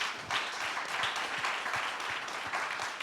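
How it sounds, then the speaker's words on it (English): A conference audience gives a sustained round of applause, a soft, even wash of many hands clapping heard at some distance throughout. "Please give a round of applause to the fund"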